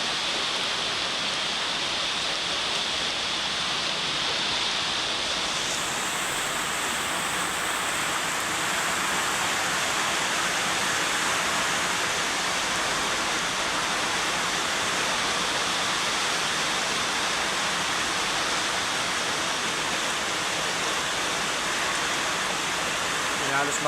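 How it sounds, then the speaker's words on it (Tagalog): Heavy rain pours steadily during a tropical depression in Uson, Masbate, a dense, loud hiss with no break across the whole span, its sound brightening slightly partway through. "Grabe kusogan ng awan no."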